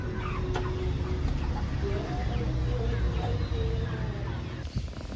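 Live chickens cluck and fuss at a busy market while poultry is being bargained over, forming a dense, steady layer of close animal noise with scattered sharper bird calls throughout.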